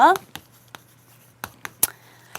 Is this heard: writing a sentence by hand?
yes